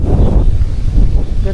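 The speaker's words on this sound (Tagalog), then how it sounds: "Lakas ng hangin." Strong outdoor wind during a rainy spell buffets the microphone with loud, continuous low rumbling gusts that rise and fall without pause.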